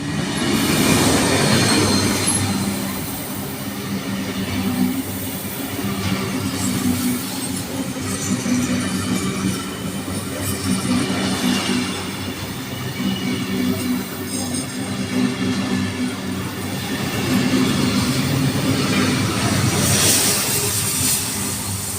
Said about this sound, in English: We have the steam train hauled by diesel locomotive 4501 passing by Thornley Platform 1.